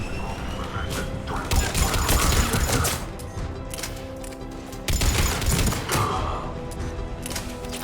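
Sustained gunfire at a checkpoint in Mass Effect 3, dense bursts of rapid shots and booms rolling continuously with a brief lull near the middle, loud and close, with faint voices mixed in.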